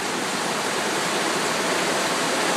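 Heavy Florida thunderstorm rain pounding on a porch roof, a dense, loud, even hiss with no pauses and no speech over it.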